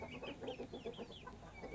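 Hens clucking in a henhouse, a short run of soft, quick clucks, faint and somewhat distant, with no voices.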